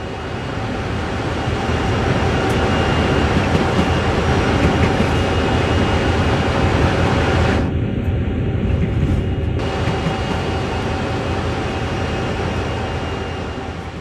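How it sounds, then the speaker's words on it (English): A locomotive coasting along in a train simulator game, producing a steady, dense rumble of wheels and running gear that holds evenly throughout, with a brief dip in the upper hiss partway through. "Have a play with moving the camera around while the train is coasting along"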